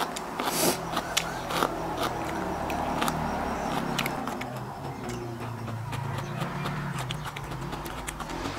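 Crunchy chewing of fresh home-grown vegetables with a spicy shrimp salad, close and steady with sharp bite transients, heard outdoors behind a house with low background noise.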